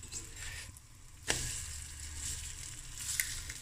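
Bread for savoury French toast sizzling in butter in a frying pan, a steady close hiss with a brief clatter as it is handled.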